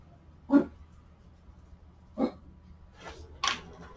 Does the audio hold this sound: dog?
yes